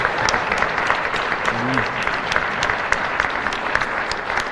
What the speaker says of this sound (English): let's clap our hands for Kelli again